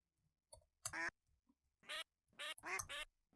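A duck in the Minecraft video game quacks repeatedly in short nasal bursts, about five calls in an uneven rhythm, close but fairly quiet, with no talking.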